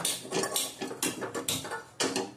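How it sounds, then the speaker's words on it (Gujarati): A gas stove is switched on in a home kitchen before cooking, giving a quick series of about six sharp, close metallic clicks from the knob and igniter in an otherwise quiet room. "આપણે ગેસ ચાલુ કરીશું।"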